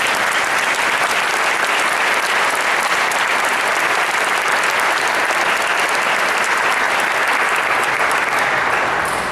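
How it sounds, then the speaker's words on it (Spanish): Sustained, dense audience applause at a basketball talk on space occupation, steady and loud throughout with no voices over it. "pido un aplauso para él"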